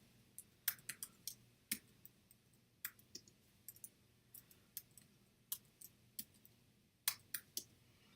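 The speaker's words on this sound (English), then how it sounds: "I'm typing in the wrong amount." Irregular clicking of keys on a computer keyboard, quick taps in uneven bursts, close by against a faint background hum.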